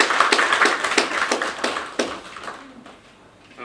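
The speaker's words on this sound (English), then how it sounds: "Please let's give them a round of applause." A small audience at a health gathering gives a brief round of applause, sparse distinct claps in an irregular rhythm that thin out and fade within a few seconds.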